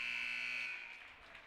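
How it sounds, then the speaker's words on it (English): A basketball game buzzer sounds one steady, loud electronic tone that holds for about half a second before fading into the arena's ambience. "the buzzer"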